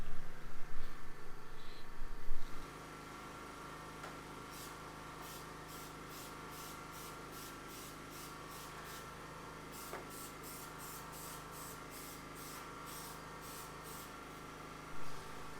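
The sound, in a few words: spray painting a Nissan R32 engine bay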